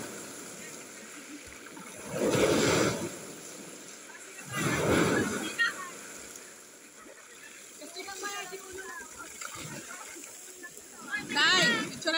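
Strong waves wash and splash along the Dead Sea shore in repeated loud surges a few seconds apart, with people talking nearby between the swells.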